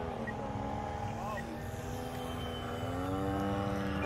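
A light airplane comes in to land at a fly-in, its engine droning steadily and loudly nearby with a slowly shifting pitch, and no speech over it.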